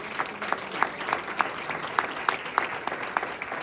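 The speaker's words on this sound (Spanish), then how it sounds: "Denle un aplauso al Rey de Gloria." Church congregation applauding during a Spanish-language worship service in Hesperia, California, a steady sustained clapping with distinct individual claps standing out, moderately near, with no talk over it.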